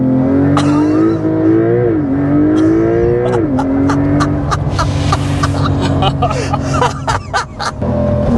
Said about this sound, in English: We've got the sport exhaust on.